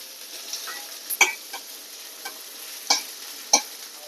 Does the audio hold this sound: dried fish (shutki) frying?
yes